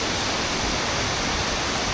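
Kuang Si waterfall near Luang Prabang, Laos, roars as a dense, steady rush of falling water, loud and close, with no break.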